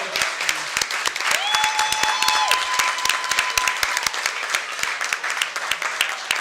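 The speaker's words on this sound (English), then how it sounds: "I think we should give the staff here a very big round of applause for a great supper" Wedding guests give the staff a round of applause after supper, loud dense clapping with sharp individual claps standing out, while whistles or cheers rise briefly over it.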